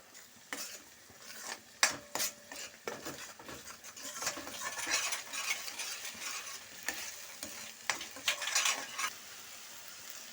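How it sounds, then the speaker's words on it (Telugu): Onion paste fries in oil in a pan with a soft, constant sizzle, while a spoon scrapes and clinks against the metal in irregular, close stirring strokes. "మంచి వాసన వచ్చే వరకు ఉల్లిపాయ పేస్ట్ కూడా వేయించుకోవాలి."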